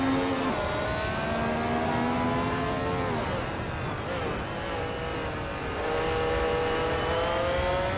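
Vintage 1976 Formula 1 race cars in a racing video game rev and drone loudly and continuously, their engine pitch rising and falling through gear changes with several cars blending together.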